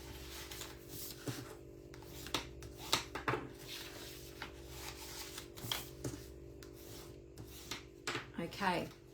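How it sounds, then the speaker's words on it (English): A bone folder rubs and burnishes along folded paper score lines on a handmade greeting card box, giving soft, close scraping strokes in irregular bursts over a faint background hum. "And burnish with your bone folder."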